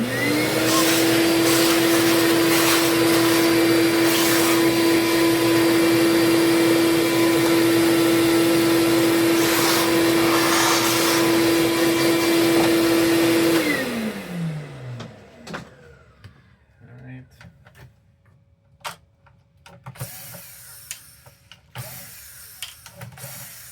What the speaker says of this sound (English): Give it one quick little vacuum.